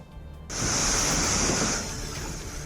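Waterfall in flood after heavy rain at Meghamalai, Theni, rushing as a steady loud broadband roar that starts abruptly and holds, then eases slightly.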